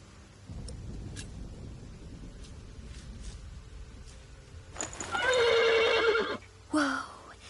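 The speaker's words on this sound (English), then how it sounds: "The horse nearly woke the guard." A horse whinnies in a medieval video game, The Pillars of the Earth, a loud, close, shrill neigh followed by a shorter second call, after a stretch of low rumbling ambience and faint knocks.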